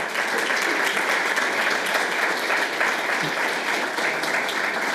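A conference audience applauds the speakers at the close of a panel on the EU's Eastern Partnership, steady dense clapping from many people that holds at a constant level throughout.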